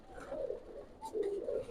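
A red-necked Pakistani high flyer pigeon gives soft, low coos in two short phrases, faint and close with no other sounds around.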